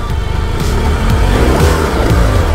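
An off-road motorcycle revs hard in loud, close bursts of throttle while climbing over an obstacle, the engine roaring steadily with uneven surges and no voices over it.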